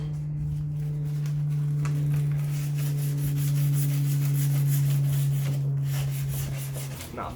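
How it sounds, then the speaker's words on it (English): Sandpaper rubbed by hand to strip primer from a Toyota Supra BN Sports body kit part, heard as a steady, close scratchy rasp in repeated strokes over a constant low hum. "Might start with sandpaper just to get the primer off."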